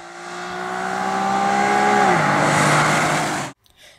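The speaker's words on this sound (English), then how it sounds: "And just listen to that engine note." A 2012 Infiniti G37 coupe's V6 revs up in a rising, sustained howl with clear tonal harmonics, dropping pitch briefly before cutting off sharply near the end.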